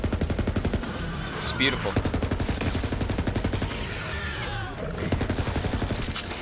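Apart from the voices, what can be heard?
hollow point gun firing in the video game Borderlands 3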